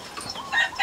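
Chickens in a coop across from a cage give short, soft clucks and chirps in a quick burst, fairly distant with no voices.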